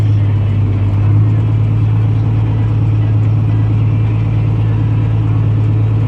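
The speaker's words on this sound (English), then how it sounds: "idle down a little bit here because we're just about empty" A John Deere 4440 tractor engine runs at a steady idle while spreading chicken manure, a loud, constant low rumble that holds without a break throughout.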